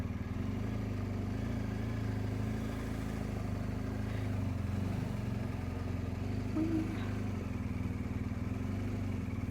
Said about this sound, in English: Oh, there's a few more bikes have arrived since.